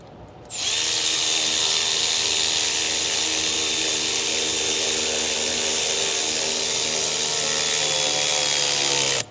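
A power tool whirs steadily for about nine seconds, tightening a metal clamp on a PPE intake kit fitted to a 6.7 Ford Powerstroke diesel, with a sharp start and stop and a high whine throughout.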